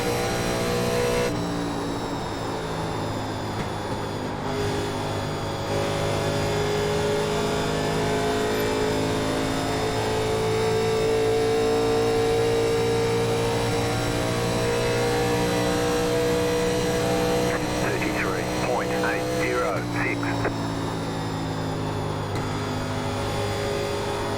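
A 1987 NASCAR Legends race car in iRacing screams at full throttle around Las Vegas Motor Speedway, its steady high engine drone holding for many seconds before a brief gear change and renewed pull.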